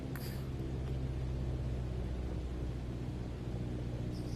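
Cessna 152 piston engine in Microsoft Flight Simulator VR, throttled back toward idle: a steady low droning hum with a faint broadband hiss, continuous and even throughout, with no voices.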